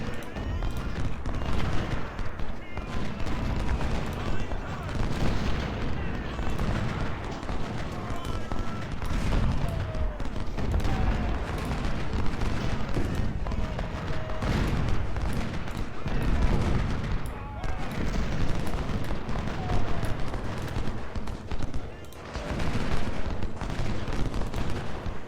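Dense massed musket volleys and booming artillery from a Civil War battle at Chancellorsville in the Ultimate General: Civil War video game, a continuous loud crackle of gunfire with heavy thuds throughout, faint voices now and then underneath.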